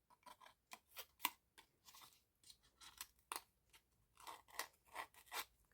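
Scissors snip through paper again and again, trimming the corners of a folded sheet at an angle to make a folder, with short, close, crisp cuts in an uneven rhythm and no talking.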